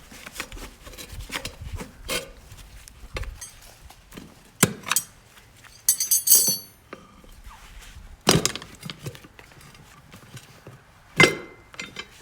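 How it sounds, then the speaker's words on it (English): Tire tools work a lawn mower tire bead onto its rim with scattered metallic clinks, knocks and scraping rubs, irregular and close, separated by quiet gaps. "work your way around with your tire tools"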